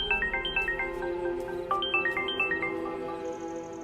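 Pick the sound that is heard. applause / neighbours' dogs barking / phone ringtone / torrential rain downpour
phone ringtone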